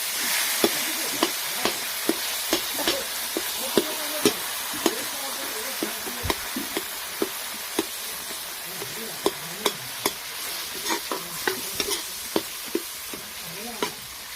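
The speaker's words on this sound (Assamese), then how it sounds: "বিলাহীখিনি ভাজি দিম মই" Tomatoes sizzle steadily in a pan while a utensil scrapes and taps against it in frequent, irregular strokes as they are stirred; no voices.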